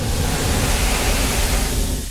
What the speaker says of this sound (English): So basically like a wall of noise.